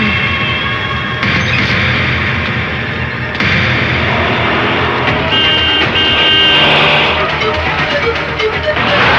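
A lorry engine runs with a loud, steady low rumble close by, broken by a few clanks and a brief horn-like tone over constant road noise.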